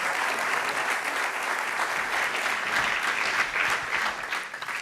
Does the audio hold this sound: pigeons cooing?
no